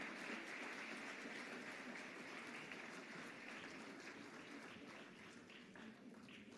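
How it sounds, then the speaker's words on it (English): Sustained applause from an audience at a brand awards ceremony, a dense steady wash of clapping that fills the whole stretch and eases slightly toward the end, heard without speech. "A huge, huge round of applause there."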